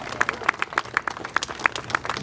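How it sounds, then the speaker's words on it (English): A small group of people clap for a 13-year-old girl singer at a family jam concert in Allentown, Pennsylvania, with sparse distinct claps in an uneven rhythm, near and moderately loud, without talk. "Folks, please give a big round of applause to our daughter."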